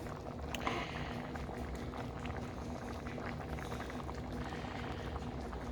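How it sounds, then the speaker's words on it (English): Pot of green chile stew, thickened with flour and water, bubbles at a simmer with a dense, continuous burble and soft pops, close and steady with no talking. "I'm going to just keep letting it simmer"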